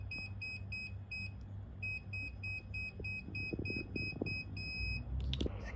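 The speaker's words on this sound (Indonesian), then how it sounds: "maka buzzer akan menyala dengan cepat" Electronic buzzer triggered by an ultrasonic sensor beeping in quick repeated bursts, a short pause, then a faster run of beeps ending in a long steady tone, with a low hum underneath.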